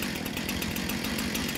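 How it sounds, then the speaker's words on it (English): A Husqvarna petrol chainsaw engine fires and runs with a loud, steady, buzzing two-stroke rattle, close and alone with no voices. "Then pull firmly and rapidly until the engine starts."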